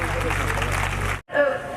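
Students applauding at a university event at Bhagat Phool Singh University, a loud, steady stretch of clapping that cuts off abruptly, followed by a voice speaking.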